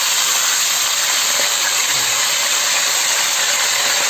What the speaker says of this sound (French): on fait bien rôtir la viande de chaque côté